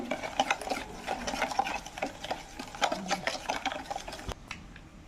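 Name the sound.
mixing palm pulp with sugar and oil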